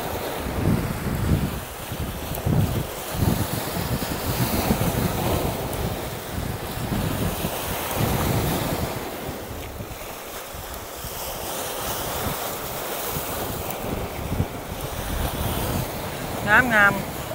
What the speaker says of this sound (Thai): วันนี้ลมแรงแรง